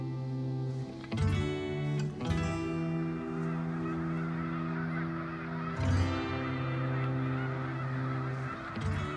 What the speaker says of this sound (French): les oies volant en direction de la terre de Baffin s'arrêtent dans les champs de Baie-du-Fèvre afin de faire le plein d'énergie